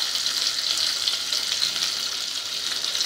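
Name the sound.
curry leaves sautéing in hot oil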